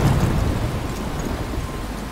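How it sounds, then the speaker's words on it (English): A dense thunderstorm from the game Life is Strange: heavy rain hisses steadily with a low rumbling thunder underneath, loud and continuous. "I'm trapped in a storm?"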